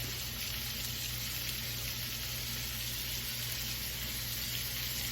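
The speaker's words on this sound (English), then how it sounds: "And I'm gonna lay them in there. And they're gonna start to sizzle right up." Steady, crackling sizzle of lobster frying in hot butter, continuous and fairly quiet, with no talking.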